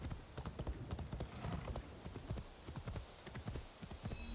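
Hooves of a horse being ridden in Assassin's Creed Shadows clip-clop in a brisk, even gait, soft and steady over a low background wash.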